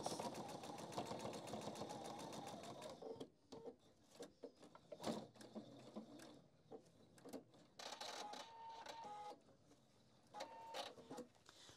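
A sewing machine stitches a seam on a handbag organizer in short, rapid bursts of needle clatter, separated by pauses and small handling clicks, quiet and close.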